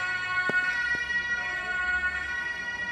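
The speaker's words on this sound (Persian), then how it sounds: "صدای آمبولانس اینجا فوق العاده وحشتناکه" An ambulance siren wails steadily at moderate distance with a sustained high tone, accompanied by a couple of sharp knocks.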